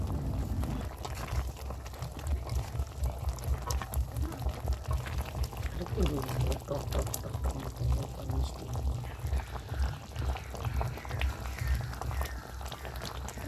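Sweet-sour tamarind pickle syrup with vinegar bubbling in a pan, a steady close simmering crackle and pop running throughout.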